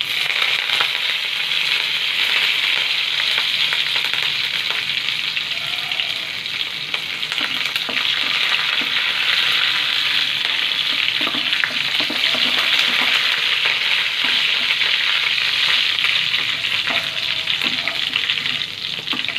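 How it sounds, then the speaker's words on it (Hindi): Curry leaves fry in hot oil while scrambled egg is cooked for a coconut gravy, giving a loud, steady hiss and crackling sizzle that runs unbroken with no voices. "इसके बाद कड़ी पत्ता डालें"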